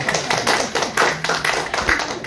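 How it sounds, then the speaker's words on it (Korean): Audience members at a church seminar clap in a brief burst of steady, fairly close hand claps, with no one talking over them. "우리 박수 한번 쳐야 됩니다."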